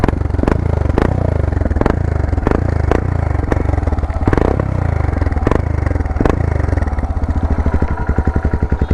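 Royal Enfield Himalayan 411 motorcycle fitted with an Akrapovic aftermarket exhaust, revving close up with sharp repeated throttle blips over a deep thumping single-cylinder idle, ending in a rapid chugging burble.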